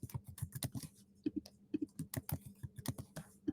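Keys tapped in quick bursts on a computer keyboard, a run of close, crisp clicks with short pauses between them, no talking over it.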